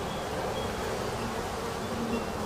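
Honey bees buzz steadily around a hive during a beekeeping swarm and nuc session, a dense, continuous hum close by with no voices.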